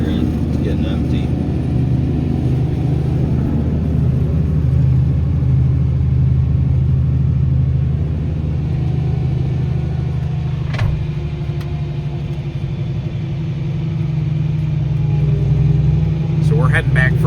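A Fendt tractor drives steadily with a nearly empty load, its engine a loud, continuous low rumble heard from the buddy seat, with occasional rattles over the top.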